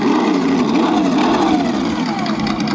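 A Thunder Tiger Bush Master 1/8 desert buggy's small nitro engine buzzes loud and close, its pitch rising and sliding back as the throttle is worked, steady and continuous throughout.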